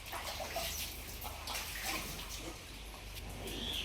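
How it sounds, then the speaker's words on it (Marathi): Water from a direct-feed system runs steadily into a cattle trough in a farm shed, a constant splashing rush heard up close with no one speaking. "आणि पाण्याची सिस्टीम कशी आहे आपली दावणीतच डायरेक्ट पाण्याची सिस्टीम"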